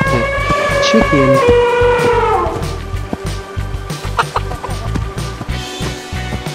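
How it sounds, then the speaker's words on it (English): A chicken clucks and squawks loudly in the first couple of seconds, its harmonic calls bending downward, before giving way to a steady thumping beat that continues alone to the end. "Chicken."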